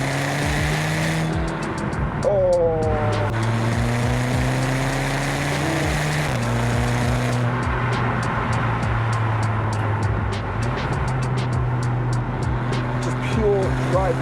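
A loud Volkswagen Golf R engine drones and revs with rising and falling pitch after a downshift, with someone speaking and exclaiming over the noise throughout.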